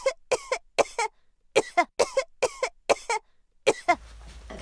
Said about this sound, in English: I've just got a cough really badly.